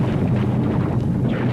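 Explosions in a Superman audio drama as the planet Krypton dies, heard as a loud, continuous, rumbling roar of blasts with no pauses and no voices.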